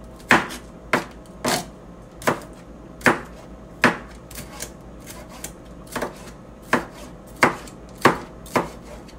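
A dull knife chops onion on a board in sharp, separate thwacks, roughly two a second in an uneven rhythm, close and clear over quiet surroundings.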